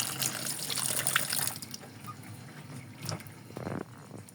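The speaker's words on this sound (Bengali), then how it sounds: "ভালো মতো এই যে আলুগুলো ধুয়ে নেব এইভাবে।" Tap water gushes and splashes as potatoes are washed by hand in a sink, loud at first and then fading to softer trickles and sloshes, with no talking.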